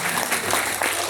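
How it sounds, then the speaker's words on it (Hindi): An audience claps together at a public event, steady dense applause filling the whole moment at an even level with no clear voices above it. "एक बार तालियां बजाकर मुझे आदेशित कर दीजिए।"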